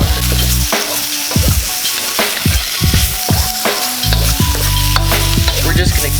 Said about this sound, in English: We're just gonna keep on stirring this till everything gets like a decent brown and is tender